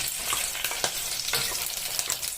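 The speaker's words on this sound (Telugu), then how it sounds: "ఈ స్టేజ్లోనే పచ్చిమిర్చి కూడా వేసి ఫ్రై చేసుకొని లైట్గా ఫ్రై అయితే చాలు" Dried red chillies and green chillies fry in oil in a pan for a traditional dal, with a continuous close sizzle broken by repeated stirring clinks and scrapes, no talking.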